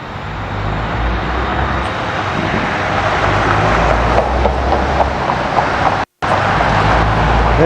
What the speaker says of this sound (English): semis take a little while longer to get through